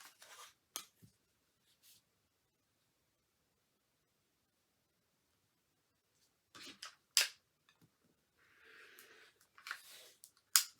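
Scissors cutting a paper quilt template along a line, a few sharp snips at the start, a long silent gap, then a cluster of crisp snips and rustling paper near the end.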